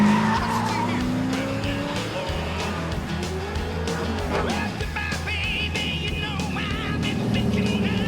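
An HDT car corners hard at high speed with loud, sustained tire squeal and skidding over a steady, roaring engine, close and continuous throughout.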